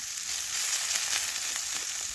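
Bitter gourd sizzles steadily as it fries in a pan and gets turned over, a soft, continuous crackle close by that is fairly quiet, with no voices.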